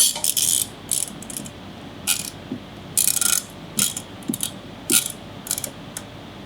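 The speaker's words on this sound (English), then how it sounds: "all I need to do is hook a clamp on the front" A ratcheting clamp is tightened on a woodworking piece, giving short bursts of crisp ratchet clicks in an irregular rhythm, close and fairly loud, with pauses between strokes.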